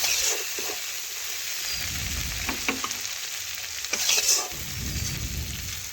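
Onions and tomatoes sizzle in oil in a pan, the steady frying hiss broken by several scraping stirs of a spatula, close and fairly loud with no talking.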